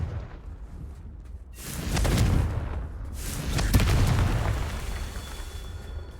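Confringo fire spell explosion in Hogwarts Legacy, one broad booming burst with a second blast after it, fairly loud against a low rumbling background.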